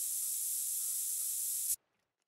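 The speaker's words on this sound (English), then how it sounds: "I'm gonna put on more scent spray." Scent spray from theHunter: Call of the Wild hunting game, a single steady aerosol hiss held for under two seconds before cutting off cleanly into silence.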